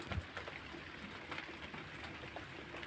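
Rain falls on a rooftop garden, a soft, steady patter with a few sharper drops hitting nearby surfaces, quiet and continuous with no one talking.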